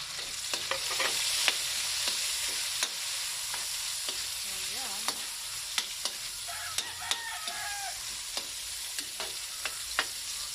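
Tomatoes fry with a steady close sizzle in a pan while being stirred, a spatula scraping and clicking against the metal at irregular intervals for a Kapampangan sautéed squash-shoot dish.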